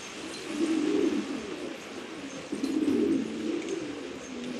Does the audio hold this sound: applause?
no